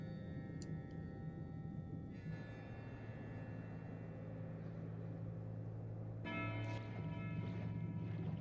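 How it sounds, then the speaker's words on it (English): Church-like bells clang in Tainted Grail: The Fall of Avalon, a sustained ringing over a steady low ambient rumble in an eerie game environment, with a second swell of tolling partway through. "the clanging of the bells is not helping me with the creepiness of this environment"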